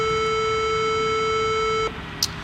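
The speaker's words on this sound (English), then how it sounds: "get this triangle wave shape. And so when we play it, it's going to sound similar to just the basic wave" Synthesized triangle-wave tone generated and played in MATLAB: a steady, pure electronic pitch with faint higher overtones, holding constant for about two seconds, then cutting off abruptly, followed by near silence and a tiny click.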